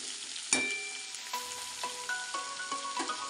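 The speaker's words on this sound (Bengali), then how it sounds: "চলো সবজিটা একটু ভাজতে থাকো," Vegetables with green chilies sizzle in hot oil for a hilsa fish head chorchori, with a sharp clatter as they go in and several scraping stirs across the pan over a steady frying hiss.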